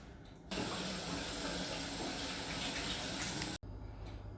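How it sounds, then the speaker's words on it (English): Tap water pouring steadily into a sink as hands are washed in a kitchen, a loud even rush that starts abruptly, cuts off briefly near the end, then resumes. "let me wash my hands"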